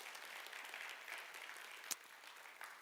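Congregation applauding at a young adults' church worship service, a steady, fairly distant wash of clapping that carries through the whole stretch with one sharp louder clap near the end.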